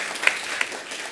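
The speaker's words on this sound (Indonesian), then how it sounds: "Tepuk tangan dulu buat Tuhan Allah kita." Church congregation at a Sunday morning service applauding briefly, a faint wash of clapping with a couple of sharper individual claps standing out near the start.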